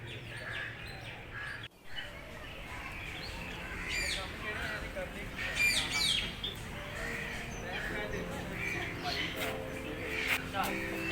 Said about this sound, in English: In master cage there are a variety of birds, including demoiselle cranes and many others.